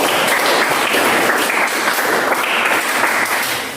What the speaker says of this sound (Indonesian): Tepuk tangan dulu yang menjawab